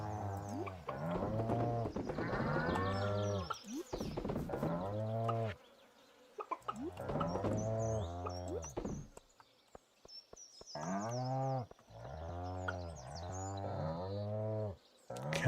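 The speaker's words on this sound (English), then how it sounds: "Cows are loud." Cows in the Stardew Valley video game give loud, drawn-out moos, several in a row with short gaps, standing alone and close.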